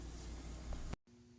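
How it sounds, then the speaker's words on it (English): A spray gun runs water onto a driveway to flush its mechanism clean, giving a steady, close hiss of broadband spray that cuts off abruptly, leaving a quiet hum behind. "you can see me here just spraying it onto the driveway until I've kind of run a lot of water through"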